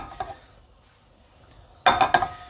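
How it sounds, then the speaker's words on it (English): Butter goes into a frying pan for a simple gnocchi recipe: a faint metallic tap, then a loud cluster of clattering pan and utensil knocks near the end. "So put some butter into the frying pan."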